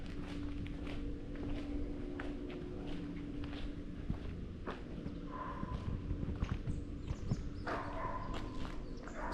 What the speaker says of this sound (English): my neighbor's dog decided to bark at this time